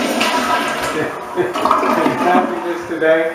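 A toilet newly set in a renovated bathroom (tub-to-barrier-free-shower conversion) flushes with a rushing, gurgling wash of water that runs the whole time, partly masked by a person talking over it.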